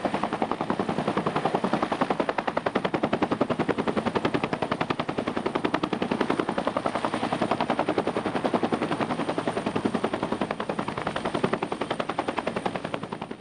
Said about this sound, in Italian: di dove potrebbe essere finito Serino è stata fatta con l'elicottero della Polizia di Pescara